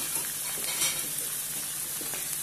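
A steady, close sizzle of food frying in a pan for stuffed eggplant, a constant crackling hiss with faint stirring and no talking.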